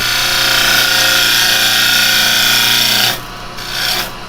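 A carbide chisel cuts a wooden bowl spinning on a lathe, making a loud, steady rasping scrape that stops abruptly near the end, leaving the quieter whir of the lathe with a brief swell.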